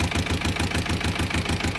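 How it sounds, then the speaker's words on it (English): An engine idling smoothly just after starting, a steady rhythmic low chug with even pulses, loud and close, cutting off abruptly at the end. "This engine is just so smooth"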